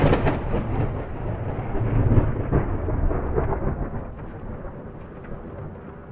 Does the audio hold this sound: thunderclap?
yes